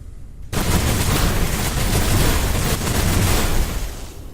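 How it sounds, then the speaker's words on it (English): An aircraft gun opens fire in the Age of Wonders: Planetfall video game, launching into a loud, continuous burst of rapid shots after a brief quiet start, then cutting off. "The aircraft gun opening fire, grazing mostly this monstrosity."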